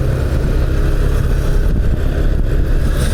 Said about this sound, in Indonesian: karena macet padat ya